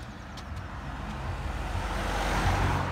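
A car passes on a narrow road along a walking route, its engine rumble and tyre noise building steadily from a low roar to a louder, closer pass.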